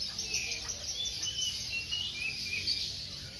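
Several magpie robins sing at a bird market in Yogyakarta, their bright, high chirps and warbles overlapping steadily and fairly faint over a soft murmur of background noise.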